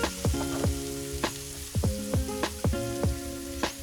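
Sliced portobello, dark button and white button mushrooms sautéing in a pan with translucent onions, a steady sizzle broken by several sharp spoon or spatula knocks against the pan, close and fairly loud, with no talking.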